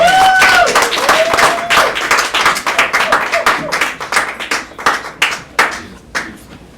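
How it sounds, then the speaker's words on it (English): Audience clapping for a speaker at a talk on Black psychotherapy, opening under a brief voice, then loud, close claps thinning out into scattered, fading individual claps. "Give that brother a clap."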